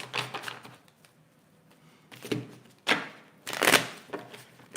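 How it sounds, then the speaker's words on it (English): Tarot cards are shuffled in several quick bursts of riffling and flicking, with short pauses between them, close and fairly quiet. "a few more shuffles"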